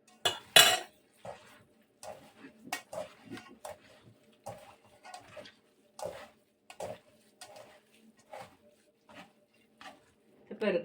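A spoon stirs an egg into a lazy cabbage roll mixture in a bowl, giving a run of irregular scraping and clinking strokes at close range, with quiet pauses between them.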